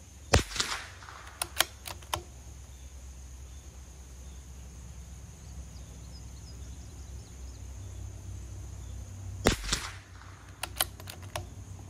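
Handgun shots fired one after another toward a 10-shot group, heard as two sharp clusters of reports, a loud crack followed by quicker smaller pops in each, separated by a long quiet stretch.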